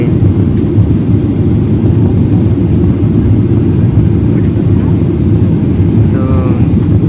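Airplane cabin on landing approach, a loud, steady low engine roar filling the space without letup, with a faint brief chirp near the end.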